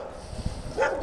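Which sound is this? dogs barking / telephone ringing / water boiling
dogs barking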